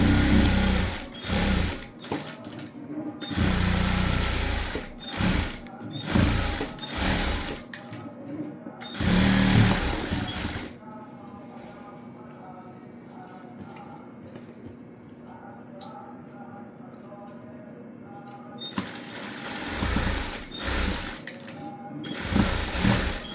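A sewing machine stitches lining onto the back piece of a back-open, front princess-cut blouse in loud, rattling bursts of varied length, falling quiet for a long stretch midway before running again.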